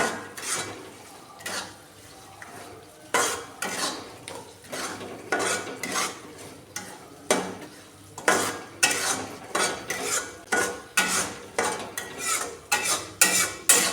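Semolina for suji halwa roasts in a pan while a metal spoon scrapes and stirs in repeated rhythmic strokes, loud scraping bursts over a faint sizzle, with no talking.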